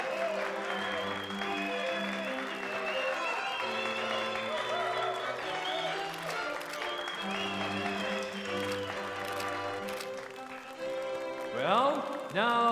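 Wedding guests clap for the newly married couple, steady applause running the whole time beneath sustained music, with a voice cutting in near the end.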